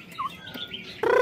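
A black-throated laughingthrush gives a few quick, faint chirps, then breaks into a louder, richer burst of song at the end, with no voices.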